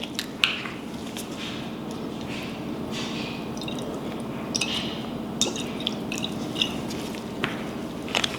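Soy sauce pours into a bowl of seasoning for Jamaican-style oxtails, a steady soft liquid trickle with small drips and squishy splashes throughout, close and fairly quiet.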